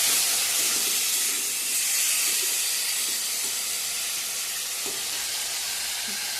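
Spices and soybean chunks sizzle steadily in a hot pan on a home kitchen stove, a continuous loud hiss with faint stirring scrapes and no talk.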